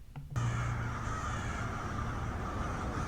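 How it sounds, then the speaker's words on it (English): A huge flock of crows fills the air with dense, continuous cawing, many harsh calls overlapping loudly and without a break. "the birds are trying to send a message"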